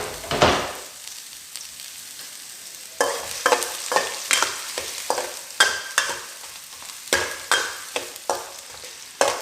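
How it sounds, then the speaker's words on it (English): Finely chopped onion, one small onion, frying in mustard and vegetable oil for a prawn bhuna, with a steady sizzle and repeated scraping stirs, close and fairly loud, no talking. "Now to the mustard oil and the vegetable oil, I'm going to add some onions, finely chopped, 1 small onion finely chopped."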